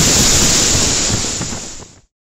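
Strong waterfall on a Malham Cove walk, a loud, close, broadband roar of rushing water that holds steady and then cuts off abruptly near the end.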